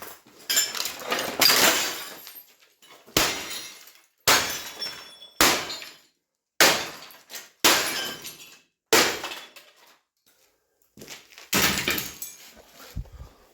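Glass shattering and crunching as an old television is dismantled for scrap, coming in about eight loud, close bursts of breaking and clinking shards separated by short pauses.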